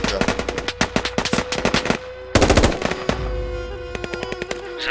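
Bursts of automatic machine-gun fire in the military shooter Squad during a Taliban ambush on French Foreign Legion troops, rapid sharp volleys with a heavier blast midway and continued firing, loud and close.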